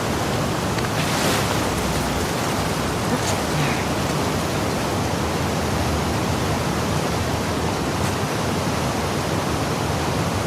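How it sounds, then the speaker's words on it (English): Water waves in The Last of Us Part II surge in a loud, unbroken hiss and rumble during a swimming section on the way to the aquarium, with no pauses or other sounds. "swimming to the aquarium as Ellie, when you were avoiding the waves."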